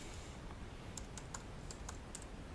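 Computer keyboard typing Python code, a sparse run of about eight or nine light key clicks in small clusters, close but quiet over a faint room hiss, no talk.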